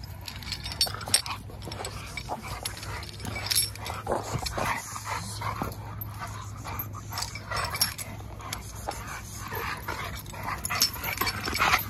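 An agile dog wearing weights moves about nearby, with whimpers and short yips over a steady low hum and rustling, fairly close throughout.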